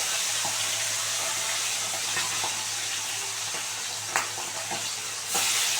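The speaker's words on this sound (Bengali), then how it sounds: "এবার মাছগুলো দিয়ে দেবো একটা একটা করে।" Pomfret fish pieces fry in hot oil in a heated pan, a dense steady hiss close by with a couple of brief clinks partway through and a surge of sizzle near the end.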